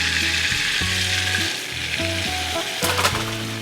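Flour and nutmeg cook in melted butter under a dense, bright sizzle, with rhythmic scraping from a rubber-tined whisk working the roux, close and steady, no voices.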